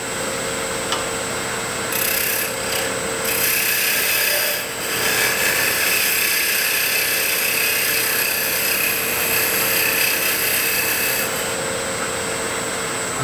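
A wood lathe spins steadily while a tool cuts and lengthens a tenon, producing a continuous hum with a high whine and scraping, rasping cutting noise that comes and goes in short bursts, close and without talk.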